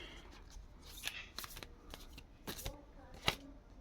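A deck of tarot cards is shuffled up close, with several quick riffling bursts separated by short pauses, fairly quiet and without speech.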